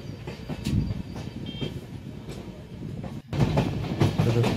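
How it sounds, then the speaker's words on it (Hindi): A train moves at slow speed around a curve on a double-line track under construction, giving a continuous rumble with steady rail clatter that swells louder near the end. "अब ट्रेन कर्व हो रही है, इसलिए थोड़ा स्लो स्पीड पे है।"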